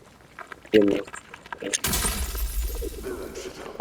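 Glass-like crystal shattering in the video game Marvel's Spider-Man 2, a loud sudden burst of breaking that spreads into a sustained crunchy rush of debris, with someone speaking briefly before it and game sounds around.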